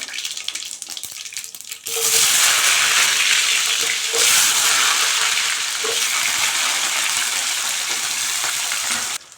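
Mustard and fenugreek seeds spluttering in hot oil, starting quiet and jumping into a loud, dense, continuous crackle and hiss that holds for several seconds before cutting off, close and without talk.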